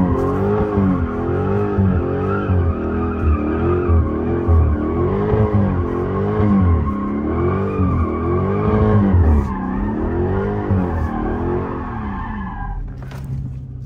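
A Dodge Scat Pack slides with its tires squealing in long wavering howls over a deep, steady engine roar, close and loud for most of the stretch before the squeal trails off near the end.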